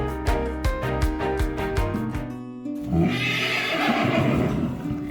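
A frightened rescued horse at a sanctuary lets out a long, strong whinny, with harmonics that rise and fall, then breaks into breathy, noisy snorting.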